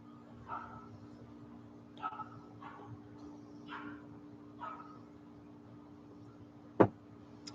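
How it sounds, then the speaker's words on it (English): A small dog yips and barks in the background at a distance, short chirpy bursts repeating every second or so, with a faint steady hum underneath and a sharp click near the end. "Hopefully that chirping dog in the background is edited out."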